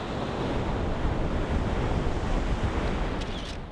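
Ocean waves breaking in surf, a steady loud wash of churning water throughout with gusty wind noise on the microphone.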